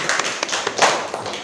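Short burst of classroom applause from seated students in a school lesson, a cluster of quick claps and taps lasting about a second and a half, fairly close and moderately loud.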